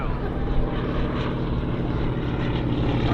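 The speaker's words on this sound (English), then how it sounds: "Well, this is the high-speed pass for the Wilga." PZL-104 Wilga 35 two-seat light aircraft making a high-speed low pass at the Aero Gatineau 2023 airshow: a steady, loud propeller and engine roar sustained throughout, close and unbroken.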